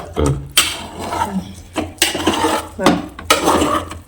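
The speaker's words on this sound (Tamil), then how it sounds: "இப்போ கிண்டி விடணும்." Cooked pearl millet rice being stirred in a pot, with repeated scraping and clanking of a spoon against the vessel in bursts, close and fairly loud.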